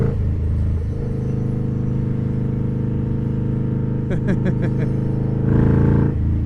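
An Indian Scout Bobber motorcycle with a Freedom Performance 2-1 Combat Shorty exhaust rumbles at a steady low idle, close and loud, with a few brief sharp clicks partway through and a slight swell of engine noise near the end.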